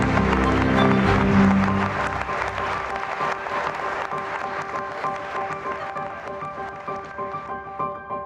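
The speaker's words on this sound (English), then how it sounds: "Thunderous applause," Wedding guests at Berkeley Castle applauding loudly right after the couple's kiss, a dense burst of clapping that swells briefly with music and then thins out over several seconds.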